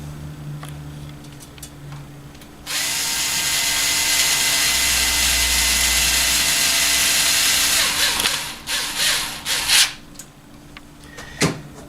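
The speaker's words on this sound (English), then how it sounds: "take the supplied machine screws and screw them into the frame" A power driver screws machine screws into the frame of a bi-polar ionizer with one loud, steady, close whir lasting several seconds, then a few shorter bursts and clicks.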